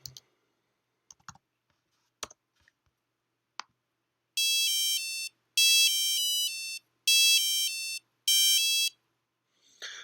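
A small electronic buzzer driven by a Raspberry Pi Pico sounds four short bursts of bright, beeping tones in a steady pattern, preceded by a few faint clicks from handling the board, with no talking.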